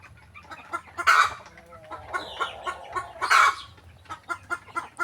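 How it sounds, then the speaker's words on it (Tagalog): Native Bisaya chickens cluck and squabble close by. Repeated short clucks build into two loud, sharp squawking bursts, with no talking. "Mga Bisaya to na manok mga idol."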